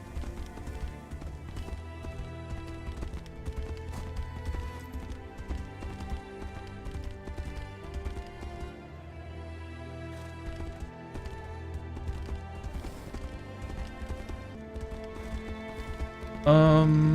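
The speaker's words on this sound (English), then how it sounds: "Yeah, we can ride the horse through here, right?" A horse gallops in the video game Tainted Grail: Fall of Avalon, with fast, rhythmic hoofbeats continuing steadily for many seconds over a layered game soundtrack.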